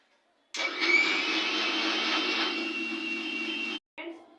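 A kitchen blender mixes a chocolate biscuit milkshake with cold milk, whirring steadily and loudly for about three seconds, stopping, then starting again in a short burst.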